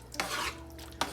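Cream cheese sauce simmering in a pot over low heat, a soft bubbling and sizzle with a couple of brief stirring scrapes, close and fairly quiet.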